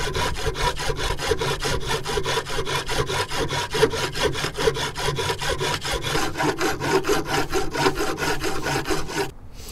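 A coarse Equan file works the tip of a soldering iron held in a vise, making loud, close, evenly rhythmic rasping strokes of about two per second that continue without a break until a sudden stop.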